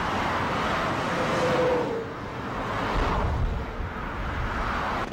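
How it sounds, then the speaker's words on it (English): Highway traffic rushing past: a loud, steady broadband roar of passing vehicles with slow swells as cars go by, continuous throughout with no voices. "several types of noise are understood to be objectionable. These types include highway traffic."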